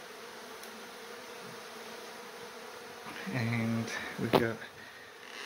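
Honeybees buzz during a hive relocation from a kitchen at night, a steady low hum swelling louder toward the end with brief bursts close by, while a person speaks briefly.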